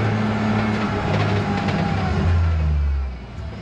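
A car fitted with an 8HP transmission swap and running boost revs hard, its engine rising and falling in a loud, close growl before settling to a lower drone.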